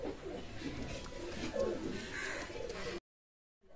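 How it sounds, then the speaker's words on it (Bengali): Pigeons coo softly at close range, low rolling calls repeating over a light rustling background before the sound cuts to silence near the end. "এক জোড়া গলালাল কবুতর আছে"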